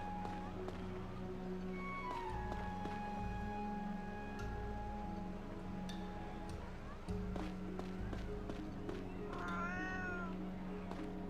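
Cat meowing in the video game The Last Story, several plaintive rising meows over a steady in-game ambient and music bed, moderately close and clear.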